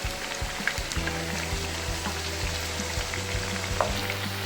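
Masala vada fry in oil over a medium flame, a continuous dense crackling sizzle with a low bubbling undertone, steady and close.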